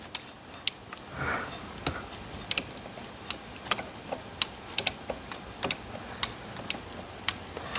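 A ratchet clicks in short irregular bursts while turning the glow plug nuts on an engine, sharp close ticks spaced over a quiet background.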